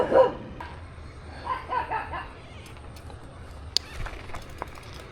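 A stray white dog barks a few times outdoors at a rural spot with solar panels and muddy ground, the barks fairly close but faint, scattered over a low background rumble.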